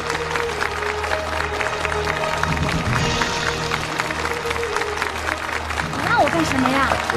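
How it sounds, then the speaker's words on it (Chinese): Applause from guests at a reception welcoming the company boss, a continuous clatter of clapping with chatter and voices underneath. "现在让我们用最热烈的掌声欢迎童总的到来。"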